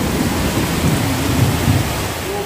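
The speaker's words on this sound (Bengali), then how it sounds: "কি পরিমাণে বৃষ্টি হচ্ছে" Heavy rain pours steadily in a rural village in Diglipur, Andaman, with low rumbling thunder rolling beneath the constant dense hiss, no voices present.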